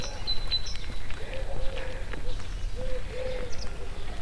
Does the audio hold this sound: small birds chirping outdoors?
yes